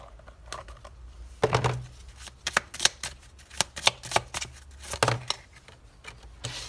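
Oracle cards for lovers being shuffled by hand, soft near papery riffles and slaps coming in irregular bursts, fairly quiet, with no speech.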